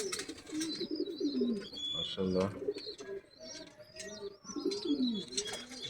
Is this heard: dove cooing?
yes